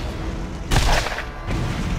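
A gunshot in the Borderlands video game, a single muffled boom-like burst near the start, followed by a softer second thump, over steady game background noise.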